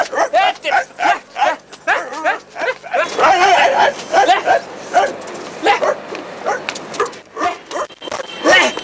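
A man imitates a dog in a Nepali comedy sketch, letting out a run of rhythmic yips and barks in bursts over several seconds, loud and close.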